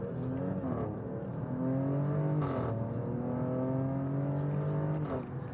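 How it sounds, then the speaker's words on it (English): A 2023-era Alfa Romeo Stelvio Quadrifoglio SUV accelerating with its exhaust valves open, giving a steady, rising engine note with clear harmonic tones and brief gear-shift breaks, heard from inside the car. "when you put your foot down and demand it, the exhaust opens automatically and gives you that beautiful, beautiful note"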